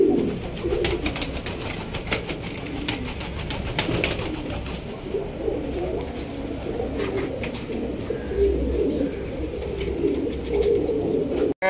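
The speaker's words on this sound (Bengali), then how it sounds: "দেখছেন কত সুন্দর মাশাআল্লাহ কবুতর জোড়া" Pigeon pairs at a bird market coo in soft, repeated throaty rolls close by, with faint chirps and occasional wing flutters, and no talking.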